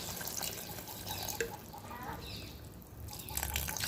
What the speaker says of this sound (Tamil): இப்போ இதுக்கு தேவையான அளவு நம்ம தண்ணி சேர்த்துக்கலாம்.